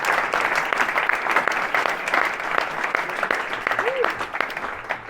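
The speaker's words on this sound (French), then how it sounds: "Je voudrais que vous applaudissiez encore." Steady, dense applause from a seminar audience at a chiropractic conference fills the room, many hands clapping evenly throughout at an even, moderately loud level, with a few louder individual claps standing out near the front.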